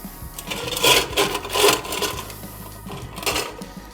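Ice cubes clatter into a glass for an Irish Trash Can cocktail, a few close rattling bursts with short pauses between.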